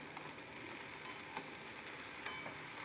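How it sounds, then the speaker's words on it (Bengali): Flat beans with salt and turmeric stirred in a pan over low heat, giving a faint steady sizzle with a few soft utensil clinks scattered through. "হালকা একটু কষিয়ে নিচ্ছি।"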